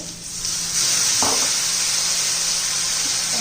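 Steady loud sizzling of a frying pan of masala-stuffed bitter gourds, with a brief burst near the start as a splash of water hits the hot oil, then continuous hissing.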